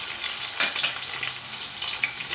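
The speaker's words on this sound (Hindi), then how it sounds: "जैसे ही आपका घी गर्म हो जाए आपने इसमें अदरक को शामिल कर देना है" Ginger sizzles in hot ghee in a pot, a dense, bright crackling hiss that holds steady and close throughout, with no talking.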